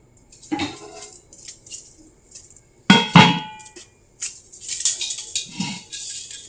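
Several metallic clanks and knocks of a large, heavy, polished antique bronze pot with a 7.5-inch mouth being moved, with irregular bursts and quiet gaps between them.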